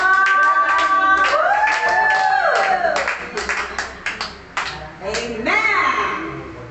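A church congregation claps together during worship, a dense run of sharp hand claps that rises and thins in waves, mixed with singing voices and a speaking voice.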